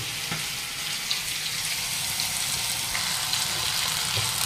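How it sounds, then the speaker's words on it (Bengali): Yardlong beans fry in a pan with a steady, dense sizzle that stays close and even throughout, with faint stirring scrapes and no voices. "এই বরবটি ভাজা হচ্ছে।"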